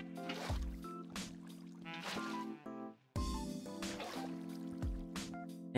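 In Minecraft, water being placed on stair blocks makes repeated short splashing, sloshing bursts, several in a row with brief gaps, over a steady background tone.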